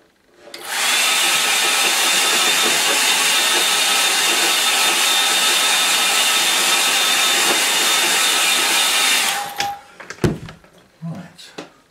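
A hair dryer blasts loud and steady for about nine seconds, drying a watercolour river painting, then cuts off, followed by a few light knocks and handling sounds.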